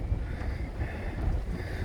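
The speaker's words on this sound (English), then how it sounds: "I don't know if you can hear that, but it's getting very windy" Strong wind buffets the microphone in continuous low rumbling gusts, with no voices.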